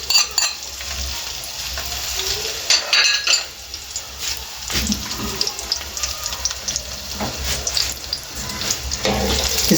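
Onions drop into hot ghee in a pan for a dhaba-style chicken masoor dal and hiss and sizzle loudly, with stirring scrapes and bursts of crackling that rise and fall, close up and with no talking.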